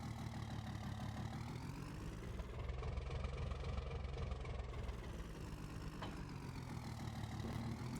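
A truck engine idles in Farming Simulator 22, a steady mid-low rumble with even harmonics that runs unbroken and fairly close throughout, with no talking.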